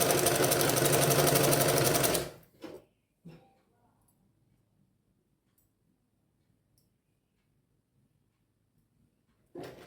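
A sewing machine runs fast while stitching a blouse seam with a half-inch allowance, a dense mechanical whir for about two seconds that cuts off sharply, followed by a couple of brief clicks and near silence.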